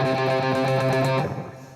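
An electric guitar plays the alternate ending of the riff, with sustained, driven chords ringing about a second before fading, close and alone.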